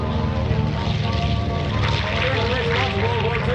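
A North American B-25 Mitchell bomber flies past at an airshow, its piston propeller engines making a steady, loud drone that fills the whole stretch with little change.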